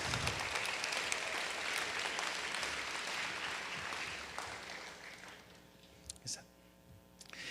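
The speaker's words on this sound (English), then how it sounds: "Please give them a well-deserved round of applause for all of their efforts" Crowd applause at a high school senior awards ceremony: a sustained wash of many hands clapping that gradually thins out and fades toward the end, leaving a faint roomy tail with a few stray sounds.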